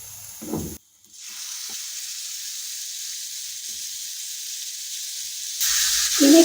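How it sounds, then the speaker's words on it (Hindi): Minced meat fries with onions in a pan over a medium-low flame, giving a steady, soft sizzle after a brief scrape of stirring, with louder hissing and clatter near the end. "कीमे का कलर चेंज होने तक हम इसे मिक्स करते जाएंगे मीडियम टू लो फ्लेम पर।"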